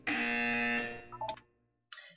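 A buzzer in the video game Portal 2 sounds a loud, sustained tone for nearly a second before fading, followed by a few short electronic blips.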